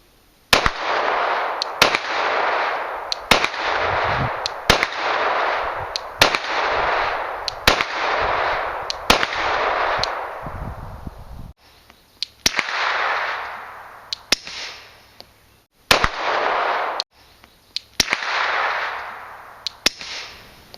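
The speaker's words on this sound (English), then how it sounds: "I'll see if I can splice in a few of them in between the supersonic and the subsonic with the suppressor" Suppressed gunshots, supersonic and subsonic rounds fired through a silencer outdoors: a steady series of sharp, loud cracks, each followed by a long rolling echo, evenly spaced over about twenty seconds with no talking.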